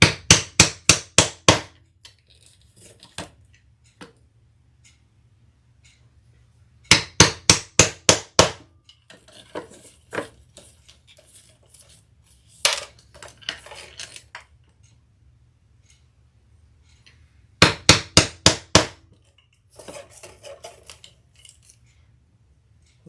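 Steel leather cutting dies struck with a hammer while making a leather messenger bag: three loud bursts of five or six rapid sharp blows, separated by quieter handling clicks and shuffling.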